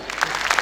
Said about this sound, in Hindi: इनके लिए तालियां यार।